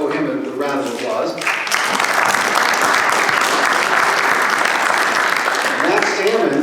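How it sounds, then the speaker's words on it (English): A voice speaks briefly, then a large audience breaks into loud, sustained applause that fills the room, with speech returning at the end. "Matt, we all owe him a round of applause."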